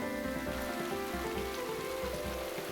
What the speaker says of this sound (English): It can rain all year round.